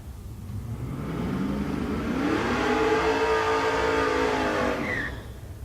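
Drag race cars at a raceway doing their burnouts, the engine noise swelling into a loud, rising roar with strong revving for several seconds before fading off.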